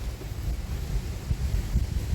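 Steady wind buffets the microphone outdoors, a continuous low rumbling roar with gusty swells and no other sounds.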